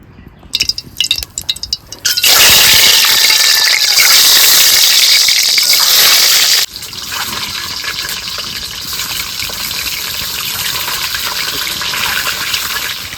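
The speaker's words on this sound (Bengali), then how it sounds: "তো এবার ডিমগুলো ভেজে নেব। তেল দিয়ে দিচ্ছি।" Oil poured into a pan for frying duck eggs, a loud steady gush and sizzle that starts abruptly after a few clinks and then drops to a quieter continuous hiss.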